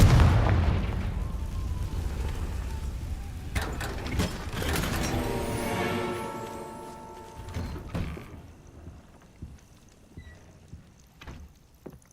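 A Confringo spell explosion in Hogwarts Legacy opens with a heavy booming blast, and a rumbling, crackling tail then fades over several seconds into scattered small thuds.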